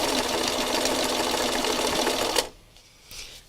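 A sewing machine stitches through stiff, paint-coated fabric in one steady, loud whirring run that cuts off abruptly, leaving a quiet room with a faint rustle afterward.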